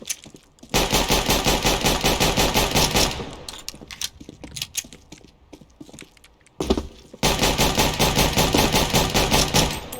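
Rapid automatic gunfire from the video game Counter-Strike comes in two loud, sustained bursts, separated by a stretch of scattered single shots and clatter.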